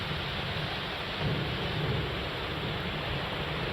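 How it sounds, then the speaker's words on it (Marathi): Heavy monsoon rain pours down steadily in Sindhudurg district on the Konkan coast, with a deep rumble of thunder rolling underneath, a dense continuous roar with no voices. "आज पहाटेपासून सिंधुदुर्ग जिल्ह्यात मुसळधार पावसाने अशी सुरुवात केली आहे।"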